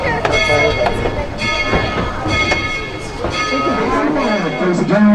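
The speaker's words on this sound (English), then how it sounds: "The train is through, Tracy." Tweetsie Railroad's No. 190 steam train passes at a heritage weekend event, heard as loud clanking, rumbling and ringing metallic tones, with a bell-like clang and voices chattering in the crowd.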